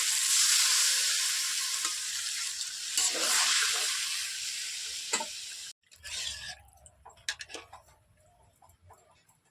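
Spice paste fries in a pan for a light fish curry with greens and potato, giving a loud, steady sizzle; water then goes in, cutting the hiss off abruptly and leaving scattered sputters and bubbling pops.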